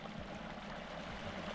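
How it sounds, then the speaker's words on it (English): Creek flowing down from a waterfall in Eaton Canyon in the San Gabriel Mountains, a faint steady trickle and burble of water over rocks with no voices. "I came down to the creek right here that flows from the waterfall"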